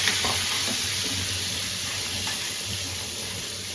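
Chicken pieces frying in butter and a spoon of oil in a pan, a steady broad sizzling hiss close by with faint stirring scrapes and a low hum underneath.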